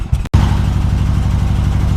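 A two-cylinder Suzuki Intruder motorcycle engine, both cylinders firing, runs loud and close in a steady, throbbing idle after a brief cut, its pulsing firing rhythm continuous.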